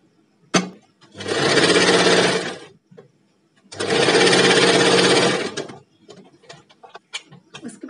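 A sewing machine stitching the drawstring casing of a salwar runs in two long, steady bursts close by, separated by brief pauses and followed by light handling clicks, with no talking.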